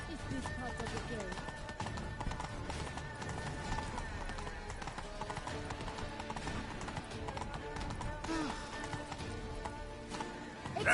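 The horse Roach gallops in the video game The Witcher 3, a steady drumming of hooves with clattering footfalls throughout, under constant voices talking.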